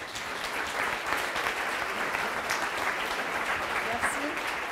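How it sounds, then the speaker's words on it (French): Steady applause from the audience at a live startup pitch evening, moderately loud clapping with murmured voices mixed in throughout. "On peut les applaudir."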